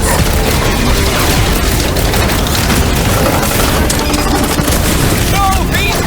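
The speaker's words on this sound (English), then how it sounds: "Fireworks!" Rapid, dense fireworks explosions in the Guardians of the Galaxy video game during a firefight, a continuous loud barrage of pops and bangs mixed with blaster fire and combat noise.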